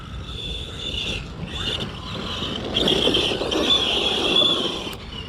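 A Kyosho Mad Van electric RC car rips across rough ground, its motor whining high and steady with gravel crunching and rattling underneath, swelling louder as it passes close.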